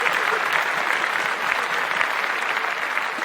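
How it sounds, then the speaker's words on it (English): A small group claps in a round of applause during a casual talk show, sustained and fairly close, with steady, busy hand claps at an even level throughout. "Round of applause for 50 Cent making a fucking TV series out of his life."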